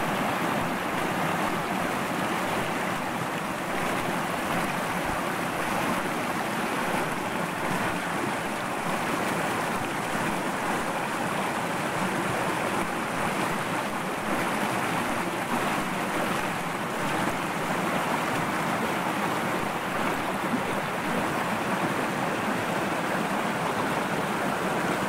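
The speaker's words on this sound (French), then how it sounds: "c'est bien joli, toute cette eau qui coule avec force et beauté." A stream near Monthermé flowing strongly, a steady loud rushing roar of turbulent water that holds constant throughout with no voices.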